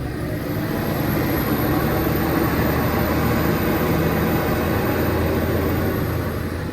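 A Valtra T-Series tractor with a 7.4-litre engine revs up, giving a steady, dense engine drone heard from inside the cab with the window shut, continuous and fairly loud throughout.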